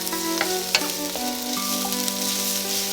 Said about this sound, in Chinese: 接下来我们下入葱丝儿和姜丝儿， 翻炒出香味儿。